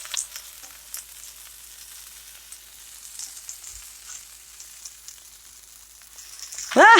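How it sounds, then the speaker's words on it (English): Shrimp burger patties sizzle steadily on an oiled griddle after being flipped, a soft continuous frying hiss that swells louder near the end with a brief scrape. "I'm going to drizzle a little bit of oil on top of them before I flip, so I know that it's going to have oil when it makes contact with the griddle"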